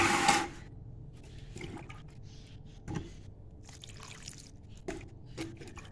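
Water poured over the soil of a potted pomegranate plant, a soft trickling and dribbling with a few brief splashy bursts, faint and close, no talking.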